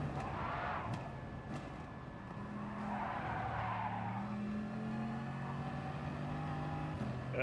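A Bugatti skids and screeches in a racing video game, a sustained smeared tire squeal over steady engine drone, fairly quiet and without talk.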